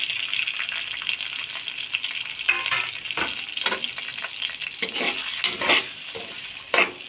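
Two cups of semolina roasting in hot oil in a wok for a sweet, a steady close sizzle with repeated stirring scrapes and louder spoon strokes punctuating it, no talking.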